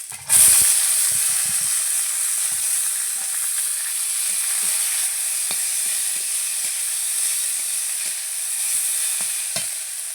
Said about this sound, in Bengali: রসুনটা একটু লাল লাল করে ভাজা হয়ে গেছে এবার দিব জল ঝরানো মূল শাকটা